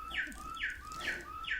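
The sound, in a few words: bird clock chiming with bird song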